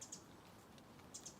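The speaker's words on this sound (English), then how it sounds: "You can hear the birds." Birds chirp faintly along a wet outdoor trail in the rain, a few short high tweets at the start and end over steady soft background noise.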